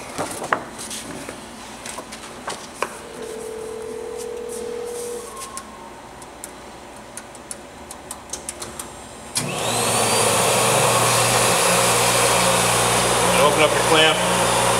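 A Bourg BB2000 binding machine switches on partway through and runs with a steady loud mechanical whir from its milling blade, following a quieter stretch of faint clicks and handling noise.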